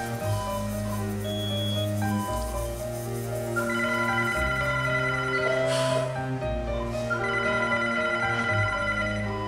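A telephone rings in a hospital scene from a Turkish romantic drama, its tonal ringtone repeating steadily and loudly for the whole stretch with no talking over it.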